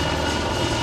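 The engine of a Lockheed F-117 Nighthawk jet aircraft roars as a dense, steady broadband rush, loud and unbroken, with no voices.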